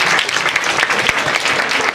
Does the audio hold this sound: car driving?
no